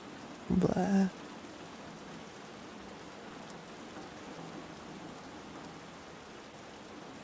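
Steady rain falls across a video game world as an even, continuous hiss of drops, with a brief burst of voice near the start before the downpour carries on alone.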